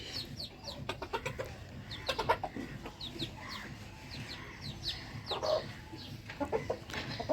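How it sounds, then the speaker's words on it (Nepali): A jungle fowl rooster and chickens cluck softly nearby, with scattered short clucks and chirps over several seconds against low background noise. "वन कुखुरा भाले"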